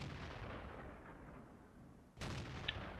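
Artillery shells striking a tank in World of Tanks: a low rumbling roar that fades, then a sudden sharp impact blast near the end followed by a louder burst of noise.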